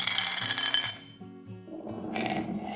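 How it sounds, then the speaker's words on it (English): Small stones or gravel drop into a stemmed drinking glass, giving a few bright clinks and chimes with a ringing tone that fades away, fairly close and with no talk over it. "Drop in a few small stones or gravel, carefully so you don't crack the glass."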